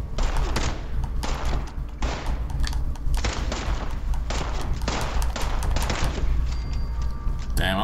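Guns in Fallout 76 fire one after another at a slow, steady pace, each shot a sharp thumping crack, with several together forming an uneven loud volley throughout.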